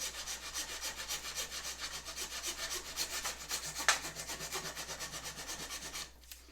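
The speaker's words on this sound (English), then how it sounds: "So I'm gonna continue to file this down." Hand file rasping back and forth over a wooden archery grip riser, with steady rhythmic strokes close up and a single sharper scrape near the middle.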